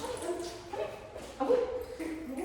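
Dogs in a dog training class yip, whimper and bark in short scattered bursts, moderately close, over a roomy background.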